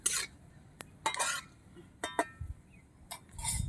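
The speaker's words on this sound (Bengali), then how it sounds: "ভালো করে মশলাটা ভেজে নিচ্ছি" Spices fry in a pan for sweet mango pickle while a spoon stirs them, giving quiet intermittent scrapes and clinks in short bursts over a faint low sizzle.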